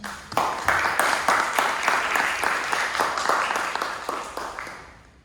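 Audience applause at a Toastmasters club meeting greets a speech evaluator coming up: a loud, full burst of clapping with distinct hand strikes that holds steadily, then fades away at the end.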